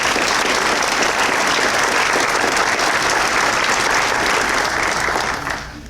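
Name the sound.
audience applause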